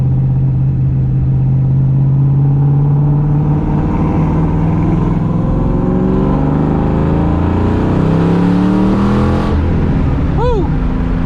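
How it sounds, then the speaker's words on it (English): A 1994 Ford Mustang Cobra with an aftermarket exhaust revs and accelerates up close, loud and throaty, its pitch climbing steadily before a brief chirp near the end. "this thing's loud. It's got some exhaust on it"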